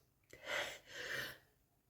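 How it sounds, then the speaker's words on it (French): A person sneezes indoors, a sharp intake and then a breathy burst in two soft swells, faint and close, with no other sound around it. "je vais encore éternuer"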